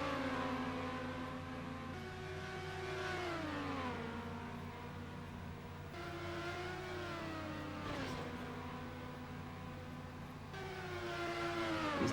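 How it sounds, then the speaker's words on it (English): Simulated V10 car engine in the racing game Trackmania Nations, droning steadily with pitch rising and then dropping at each gear shift over about twelve seconds, loud and alone. "Let's just appreciate the sound of that, what I believe is supposed to be a V10 engine."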